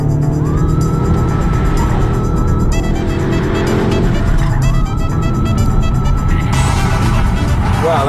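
A 2020 BMW 228i Gran Coupe, a front-wheel-drive-based xDrive car, corners hard with heavy understeer, its engine droning loudly and steadily with shifting tones and faint tire scrub as the car runs through the turn.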